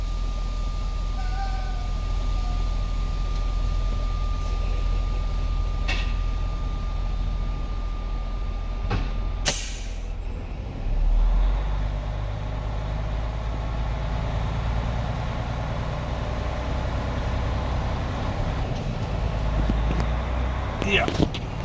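A new semi truck rolling in gear, a low steady engine rumble with road noise from inside the cab, a sharp clunk partway through, and someone talking over it.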